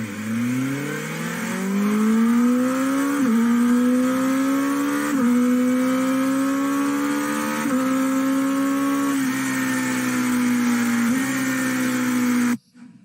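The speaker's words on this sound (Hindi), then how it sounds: "They are giving a engine sound on the website itself." A BMW engine sound plays back from a website, a steady loud rising drone with harmonic whine that climbs and holds through several rev steps before cutting off abruptly.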